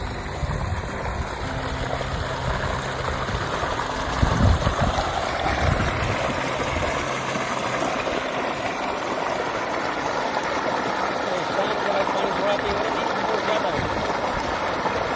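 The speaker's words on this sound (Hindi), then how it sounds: "पानी का फ्लो, पानी की स्पीड" Steady broadband rush of water flowing from a solar-powered pump pipe, continuous and fairly loud throughout, with a low murmur of voices underneath.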